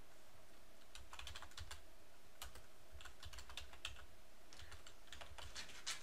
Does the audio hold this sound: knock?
no